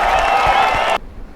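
A short burst of dense audience applause for presenters at a case study presentation, loud and steady for about a second before cutting off abruptly into quiet.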